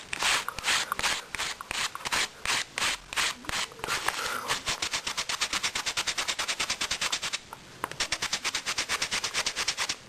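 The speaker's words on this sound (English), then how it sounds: "rub your finger up and down some sandpaper" Fingertip rubbed rapidly up and down on sandpaper, close and loud, making a rough scratchy rasp: a few slower strokes first, then fast even back-and-forth scrubbing with a brief pause near the end.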